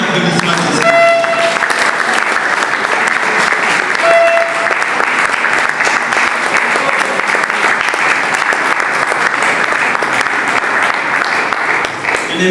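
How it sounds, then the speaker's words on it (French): An audience at a scientific exhibition bursts into loud, sustained applause that fills the whole stretch, with a crowd murmuring beneath the clapping. "Sous vos applaudissements."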